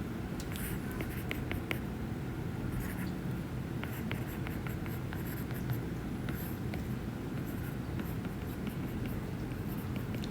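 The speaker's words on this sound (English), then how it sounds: "So let me write again the formulation." A formula is written by hand during a calculus class, with scattered soft scratching and tapping strokes over a constant room hiss, close and fairly faint, without speech.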